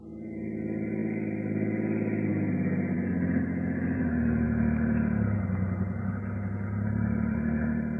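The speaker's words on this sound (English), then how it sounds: "I've got my car. We'll go for a drive." A car drives along a highway as a sound effect in a 1940s espionage radio drama: a loud, steady engine drone and road rumble continue throughout, with slight shifts in pitch and no voices.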